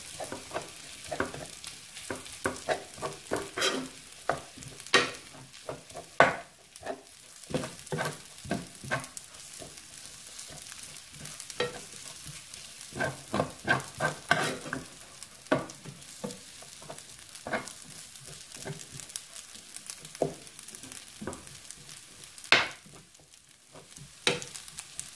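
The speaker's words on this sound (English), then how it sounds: "mix the rice in" Spoon scraping and stirring rice through leftover curry chicken wings in a hot pan for biryani, a steady run of soft clinks and scrapes over a gentle sizzle, close and moderately loud with no talking.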